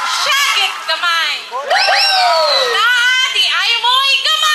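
Alumni crowd at a high school grand homecoming shouting and whooping loudly and close, voices rising together in a sustained burst of cheering.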